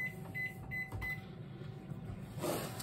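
A microwave oven runs, heating chocolate chips with a steady low hum and a faint whir, close and quiet, with a few light clicks and rattles.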